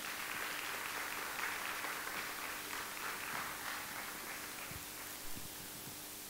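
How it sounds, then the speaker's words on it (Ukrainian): Soft, steady applause from a church congregation during a Sunday service, a continuous hiss of many hands clapping heard from some distance, fairly even in level throughout. "Під ваші оплески, будь ласка."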